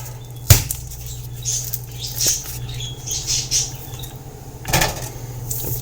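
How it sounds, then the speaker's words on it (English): Birds chirp and squawk outdoors in scattered calls over a low steady hum, with a couple of sharp knocks nearby and no talk. "The birds are being nice and chatty today."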